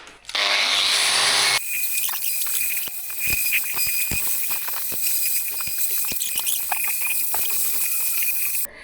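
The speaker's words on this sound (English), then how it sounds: "Now we can grind it like this." A Land Rover part is ground with a power tool, starting with a loud steady whirring burst, then a rough scraping grind with irregular gritty clicks close by.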